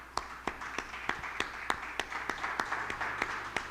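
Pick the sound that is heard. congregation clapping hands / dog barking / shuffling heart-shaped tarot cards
congregation clapping hands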